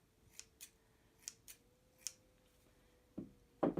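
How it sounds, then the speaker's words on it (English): Scissors snip serger threads on a Brother 1034D serger, several sharp separate clicks spaced irregularly in a quiet room, with a louder pair of cuts at the end. "snip all the threads"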